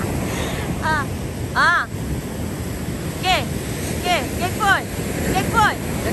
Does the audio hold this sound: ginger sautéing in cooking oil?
no